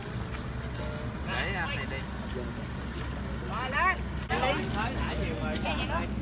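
A boat engine drones steadily through a riverside boarding scene on a Tết fish-release outing, a low continuous rumble running under several people talking and calling out close by.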